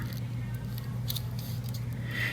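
Scissors trim the edges of a paper vintage Valentine card at a craft desk, giving a few faint, short snips over a low steady hum.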